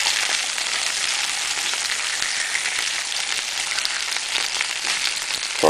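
Fresh tuna sizzles steadily in a hot pan just after being flipped, a dense, even frying hiss that holds at one level close up, with no talk over it.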